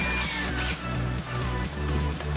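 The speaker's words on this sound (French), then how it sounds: "je vais prendre ma perceuse" A handheld power drill fitted with a wood bit whirs steadily while boring holes for a car rod rest, with short pauses between bursts. It sounds close and fairly loud throughout.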